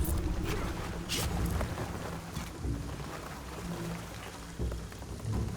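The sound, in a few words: rain in Shadow of the Tomb Raider video game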